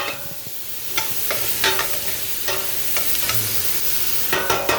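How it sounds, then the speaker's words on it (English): Vegetables sauté in a hot pan with a steady, close sizzle, punctuated by sharp clinks and scrapes of stirring at irregular intervals, no talking over it. "we're gonna saute these and get the flavor out of them"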